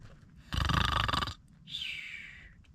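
A person imitates a bear snoring inside a hot tent while camping at Lake Waccamaw, North Carolina: one loud, rough snort on the inhale, then a shorter whistling exhale.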